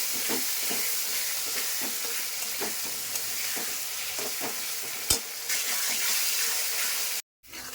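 A paste of ground cumin, ginger and chili frying in oil, a constant dense sizzle with rhythmic spatula scrapes every half second or so, near and steady, one sharp knock late on, then a brief cutoff.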